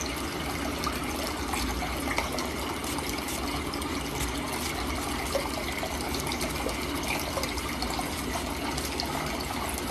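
Steady running water streams continuously at an even level throughout, a soft broadband wash with no talk over it.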